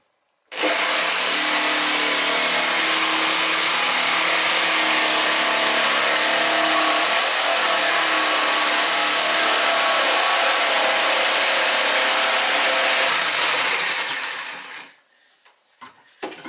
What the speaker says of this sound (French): On va découper maintenant l'extérieur, tout en laissant pour le moment la partie centrale.